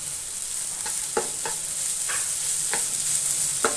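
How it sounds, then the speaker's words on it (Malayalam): Minced chicken for cutlets fries in a little oil, a steady close sizzle broken by a handful of sharp scraping stirs of the spatula against the pan. "ഈ ചിക്കൻ ആദ്യം ഇട്ട് കൊടുക്കുകയാണ്"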